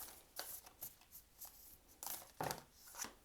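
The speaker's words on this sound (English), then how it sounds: "it's a bit hard to shuffle these" Quiet papery riffling and rubbing of stiff tarot cards being shuffled in short irregular bursts, close by and soft.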